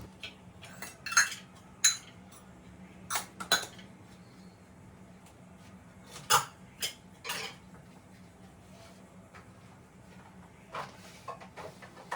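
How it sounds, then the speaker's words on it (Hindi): Kitchen utensils and dishes being put away in their places, scattered metal clinks and clatters of pots and cutlery arriving in irregular bursts with quiet gaps between. "साथ के साथ जितने भी बर्तन हैं सबको अपनी अपनी जगह पे रख दें"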